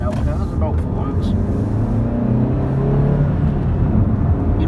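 A 2017 Suzuki Ignis 1.2 SHVS hybrid ALLGRIP drives on the road with its engine held below 4,000 RPM. It makes a steady, continuous drone whose pitch climbs gradually, with a low rumble throughout.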